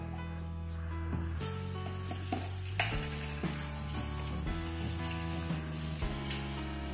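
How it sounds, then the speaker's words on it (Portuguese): Garlic frying in olive oil, a gentle steady sizzle with occasional clicks and utensil knocks beneath a loud tonal hum from nearby kitchen equipment. "Vou estar colocando 1 colher de alho no azeite."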